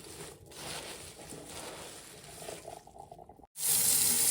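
Water splashes and sloshes steadily as turnip greens are rinsed under a running sink tap, then a sudden louder gush of water near the end.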